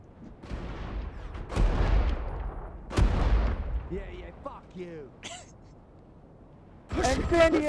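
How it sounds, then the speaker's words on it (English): Bursts of incendiary-round gunfire from Saints Row 3 ring out in several loud volleys while voices shout and exclaim over and between the shots. "Incendiary round!"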